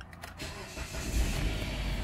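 A 2008 Jeep Compass engine cranks and catches in a garage, a brief starter whir building into a rumbling idle that settles and holds steady close to the microphone.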